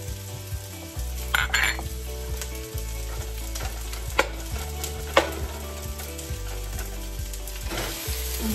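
Pork and tomato sizzle loudly and steadily in a frying pan, close up. Repeated scrapes and clinks of a utensil stir against the pan throughout.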